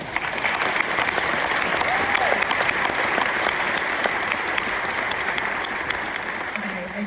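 A conference audience at a university world-affairs event breaks into sustained, loud applause, dense clapping filling the room, with a voice briefly heard underneath.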